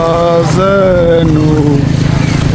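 A boat engine drones loudly and steadily up close at Cox's Bazar, its pitch shifting slightly as it runs, with a brief voice over the motor.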